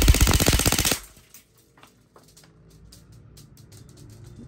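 An ICS MK18 airsoft rifle fires one loud, rapid full-auto burst of about a second, close by, then stops, leaving a quiet room with soft handling noise.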